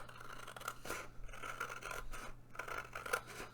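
Scissors snipping paper for a journal made from lunch bags, a few close crisp cuts spaced about a second apart against a quiet room hum.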